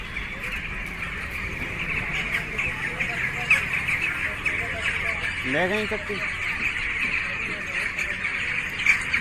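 Birds squawk and call amid a steady noisy background after an earthquake in Turkey, with a brief burst of harsh cries midway and a voice talking over it.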